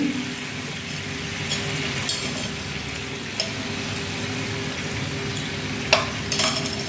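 Ingredients are stirred into water in a kitchen pan, giving a steady close hiss with faint spoon taps and scrapes, no talk.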